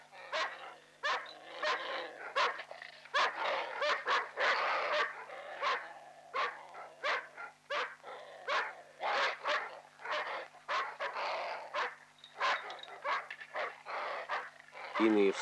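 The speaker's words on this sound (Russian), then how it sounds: "Иные собаки ограничились лаем." Laika hunting dogs bark again and again at a young bear in a 1960s Soviet hunting test. The barks are loud, rapid and overlapping, with yips and a few whimpers, and people talk at times under the barking.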